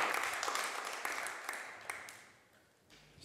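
Weak, sparse applause from a TV quiz show studio audience, a thin scattered patter of claps that fades out within a few seconds, faint and distant.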